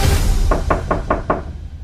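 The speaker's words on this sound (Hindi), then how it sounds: "पूर्णिमा, पूर्णिमा दरवाजा खोलो।" Five sharp knocks rap on a door in a steady, even rhythm, loud and close, with no voices over them.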